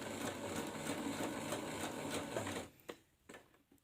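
Sewing machine stitching elastic onto a cloth face mask, a close steady buzzing run that stops partway, followed by a few faint clicks and handling sounds.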